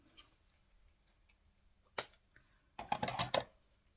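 Scissors snipping through a long fabric table runner with lace trim, a single sharp cut followed by a short cluster of quick crisp snips, close and quiet in an otherwise still room.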